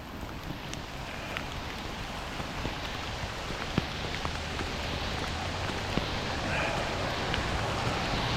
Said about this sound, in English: I like how the rain sounds.